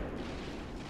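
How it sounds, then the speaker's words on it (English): Mortar fire in the WWII video game Gates of Hell, a dull, steady low rumble of distant artillery with no distinct individual shots standing out. "Is that my mortar firing now?"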